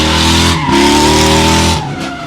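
A drift car with a cammed LS V8 skids loudly at Meremere Drift Park, tyres squealing over a roaring engine that dips briefly before surging again, close and intense.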